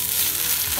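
Fish pieces fry in hot oil in a pan for fish biryani, giving a steady, dense sizzle that stays loud and close throughout with no voices.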